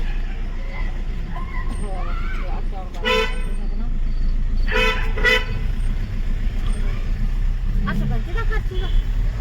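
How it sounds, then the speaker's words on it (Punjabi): A car horn honks in short blasts, two prominent toots a couple of seconds apart plus a fainter one later, during a village Lohri festival, over engine rumble and people talking nearby. "ਹਾਰਨ ਮਾਰ ਹਾਰਨ ਮਾਰ"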